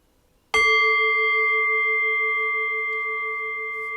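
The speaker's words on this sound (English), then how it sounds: "I'll ring the bell and I'll guide us in" A meditation bell is struck once, a clean bright strike shortly after a quiet start, and its pure ringing tone hangs on and slowly fades for several seconds, with nothing else heard.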